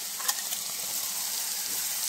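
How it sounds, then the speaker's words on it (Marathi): Cumin seeds sizzle in hot oil as garlic and chili paste goes in, making a steady bright hiss with a faint stirring tap near the start. "लसूण आणि मिरचीची पेस्ट केलेली आहे ती आता आपण त्यामध्ये टाकणार आहोत।"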